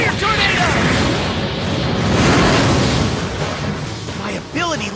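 A Fire Tornado ability attack in the Bakugan Battle Brawlers anime roars as a loud, continuous broadband whoosh that swells and holds for the whole stretch, with voices faintly mixed in.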